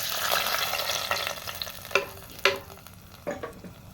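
A tempering for amaranth greens (arai keerai) crackles and sizzles in a pan, loud hissing at first, then easing as a spatula knocks and scrapes a few times, close up.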